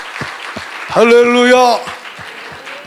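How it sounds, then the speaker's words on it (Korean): Steady rhythmic hand clapping during Korean church worship, with evenly spaced claps keeping time while a voice sings out loudly in the middle. "박수로 하나님께 감사하라."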